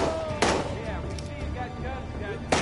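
Two sharp gunshots ring out in the Days Gone video game, one early and one near the end, loud and close over busy in-game ambience.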